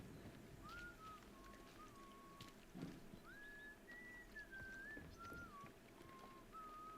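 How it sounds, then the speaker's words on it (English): A person whistles a meandering, tuneful melody in the video game Atomfall, with several short phrases and pauses over a low, steady ambient background and one brief thump partway through. "I just want to know where the whistling sound's coming from"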